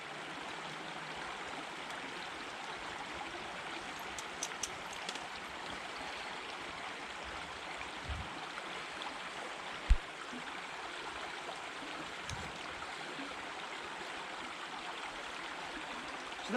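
Water runs steadily while being filtered with a Katadyn BeFree outdoors, a continuous soft rushing trickle with a few faint clicks over the full length.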